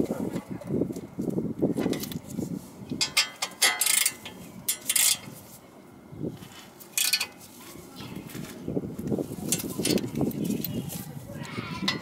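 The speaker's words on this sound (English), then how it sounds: "Now you get your wrench, start tightening it." A wrench tightening a bolt on the front brakes of a 2014 Ford Focus gives off close, repeated ratcheting clicks in short bursts, with a voice talking in places.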